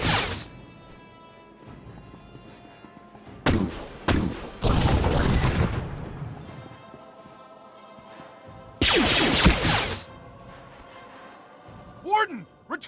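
Firefight gunfire in Star Wars The Old Republic, loud broadband bursts of blaster-like shots in several separate volleys, with game dialogue voices talking between them.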